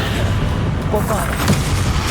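In the Hogwarts Legacy video game, a Bombarda spell explodes with a loud, sustained, booming rumble. It stays steady and dense for a couple of seconds against a busy in-game background.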